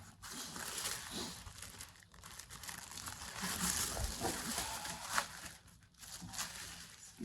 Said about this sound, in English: without really opening up the tissue paper.